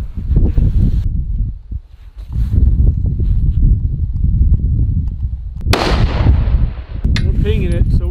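A rifle is fired during a coyote hunting tournament, making a sharp, loud report and a bang near the middle of the clip, set against steady wind-like rumble and outdoor noise. A brief voice comes in near the end.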